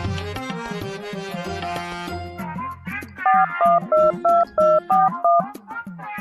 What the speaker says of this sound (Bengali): একটা ফোন করে দেখতাম না